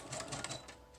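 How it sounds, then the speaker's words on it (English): Sewing machine stitching through paper pieces of a frankenpaper project, a quick rattling run of needle strokes that stays close and steady for about a second with no talking. "you can just kind of roll it to fit underneath the sewing machine while you work your way around these pieces"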